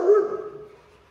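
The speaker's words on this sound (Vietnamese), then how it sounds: "Đây là dòng Rottweiler ha." A single short, deep bark from a Rottweiler, close and fairly loud, tailing off into a brief whine.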